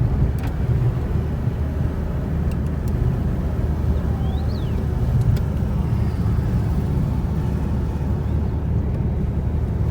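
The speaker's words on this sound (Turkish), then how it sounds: "şu an aracı teste çıktık" Fiat Palio running on LPG on a test drive with the windows shut, a steady low engine and road drone filling the cabin at close range without letting up.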